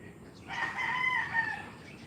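A pet rooster kept indoors crows once, moderately close, in a long drawn-out call over a quiet room.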